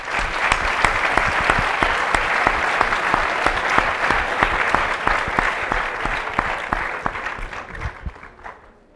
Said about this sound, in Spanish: un gran aplauso para él, por favor.